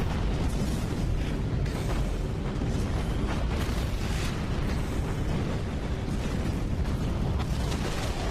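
An enemy aircraft blown apart by naval fire in the Battlestations Pacific game: several dull booms and bursts over a continuous rumbling battle din, steady and fairly loud.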